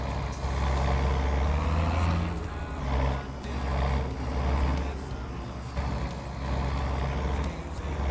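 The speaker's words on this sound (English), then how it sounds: "The Oliver's a little quieter, but this tractor's nice sounding." A tractor engine in Farming Simulator 22 drones as a loud low rumble, rising and easing in pulses, with a few hissing bursts and someone talking over it.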